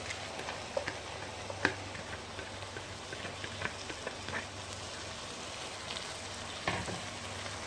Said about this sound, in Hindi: अब मैं डाल दूँ इसमें माश की दाल, जो मैंने लाइट सी बॉईल करके रखी है।